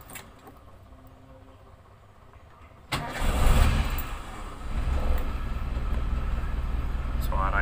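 An old used car engine is started after a quiet moment, catching with a sudden burst and settling into a steady, smooth idle that runs close and continuous; a voice speaks faintly before the start.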